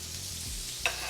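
Red and green bell peppers sizzle on an oiled flat top griddle, a steady close hiss with a brief scrape of stirring near the end and no talking.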